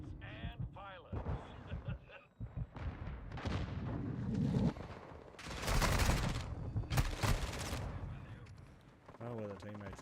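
Rapid gunfire and heavy blasts in an MW3 Zombies game trailer come in loud bursts between stretches of talk, with dense volleys building in the middle and voices before and after.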